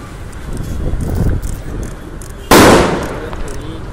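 A small firecracker is set off at a Diwali fireworks shop and gives one sharp, loud pop with a hissing burst. Outdoor chatter and wind noise come before it.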